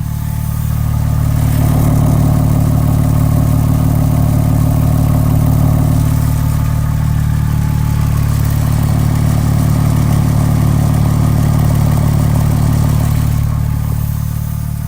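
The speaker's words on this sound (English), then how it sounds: "Now we'll get in close to the exhaust. Two tips on either side." A car exhaust idles loudly up close, a deep, steady burbling rumble that holds evenly throughout with slight swells.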